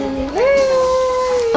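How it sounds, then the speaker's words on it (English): A single drawn-out, rising cat meow from the Roblox video game, loud and clear, lasting just over a second. "Oh, a cat."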